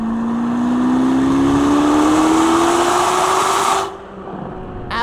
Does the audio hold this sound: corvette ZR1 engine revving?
yes